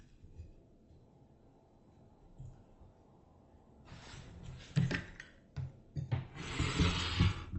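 Fabric for a paper-pieced quilt cut along a ruler, likely with a rotary cutter, heard as a quiet start then several close scraping, rasping strokes growing louder toward the end.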